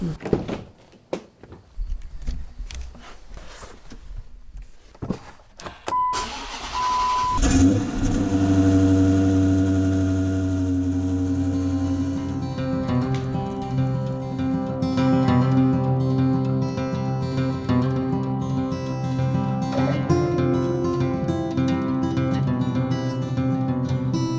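A Dodge Challenger starting up after a door closes, its engine catching with a loud burst and then settling into a deep, steady rumble that holds nearby, with some revving and no talk.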